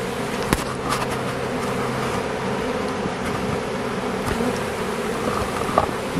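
A swarm of honeybees buzzes continuously and loudly up close during a swarm capture, a dense steady drone with occasional sharper passes of individual bees.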